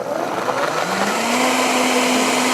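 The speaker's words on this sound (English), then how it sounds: "we're just going to pulse it for a little bit" Kitchen blender pulsing cassava with other ingredients for a blueberry pancake batter, a loud close motor whir that rises in pitch and holds steady, with no talk over it.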